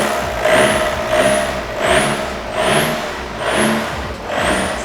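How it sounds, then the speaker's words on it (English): A Ford Ranger engine idles and is revved repeatedly in rising and falling swells, loud and close, with a hissing whine on each rev and no one talking. "Oh, it starts right up, buddy. Oh, give it some gas."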